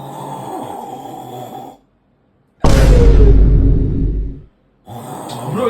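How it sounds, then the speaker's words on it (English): A person snoring loudly in a single long, rough breath, close by, between stretches of talk. "Bro, you're snoring now."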